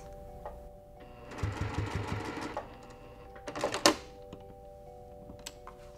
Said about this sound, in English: gonna sew to a quarter inch away from the edge and pivot